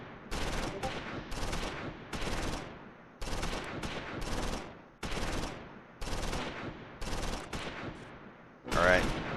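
Repeated bursts of small-arms gunfire in the wartime strategy game Close Combat IV, about a dozen sharp volleys in an irregular rhythm, moderately distant and fairly quiet.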